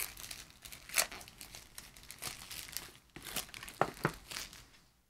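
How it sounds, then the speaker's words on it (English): Plastic wrapping is pulled and crinkled off the packaging of cheap in-ear monitors, close up, in a series of short crackling tears and rustles with brief pauses between them. "so we'll just pull the rest of it off"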